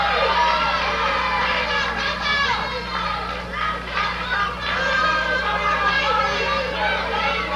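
A packed 1979 Memphis wrestling arena crowd roars and yells continuously at a steady, loud level, with a commentator's voice running over the noise.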